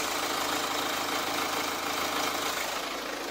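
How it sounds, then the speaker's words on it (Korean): A Hyundai Santa Fe DM with a 2.0 diesel engine idles steadily, a dense, even diesel clatter heard close up with no talking over it. "엔진 소음 먼저 들려드리면은"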